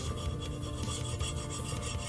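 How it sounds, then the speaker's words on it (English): A wooden tumbler toy being filed and scraped with quick, continuous rasping strokes, close and steady. "Scraping over this."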